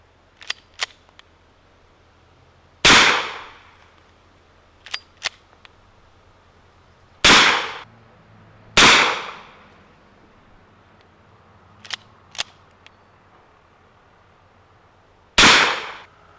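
Suppressed S&W Mk 22 Mod 0 Hush Puppy pistol fired outdoors: four sharp, loud, well-spaced cracks with short decaying tails, interspersed with fainter clicks of the action.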